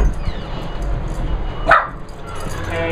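Dogs at a ski resort give one brief sharp bark midway through steady outdoor noise and a low background murmur, heard close but short.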